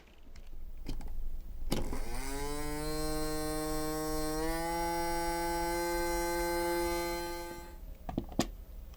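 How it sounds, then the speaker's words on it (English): The small electric motor of a TOMY Verbot toy robot whirs up after a click, rising in pitch and holding a steady whine for several seconds before cutting off with a few clicks. "I guess I should test the motor while I got it here"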